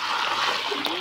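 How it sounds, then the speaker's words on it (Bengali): Freshly caught fish from a muddy pond are rinsed in water at an Andaman village, making a quick, close splash and swish within a single second, with a faint voice in the background. "এখন ধুয়ে ভালো করে সাফাই করা হচ্ছে, কারণ কাদা পেরির ভিতর থেকে ধরা হয়েছিল"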